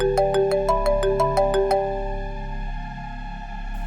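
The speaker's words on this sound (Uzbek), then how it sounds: "Voy, Rasul telefon qilyapti." A phone plays a melodic ringtone for an incoming call, a quick repeating run of bright electronic notes that then holds a sustained tone, close and loud.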